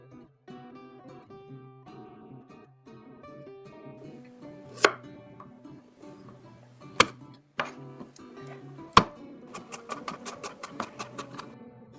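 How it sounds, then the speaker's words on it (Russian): Sharp knife strikes on a cutting board chopping garlic, scattered at first, then a quick run of rapid chopping near the end, close and fairly quiet. "Средними кусочками режу остальной чеснок."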